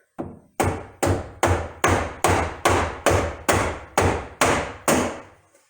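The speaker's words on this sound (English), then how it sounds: "I've got my mallet, and right here, those 4 screws are off, and then all you have to do is gently tap on here." A mallet gently tapping on a panel of a 2008 Honda Ridgeline pickup, eleven evenly spaced, solid knocks with a short ring after each, close and clear with no talking.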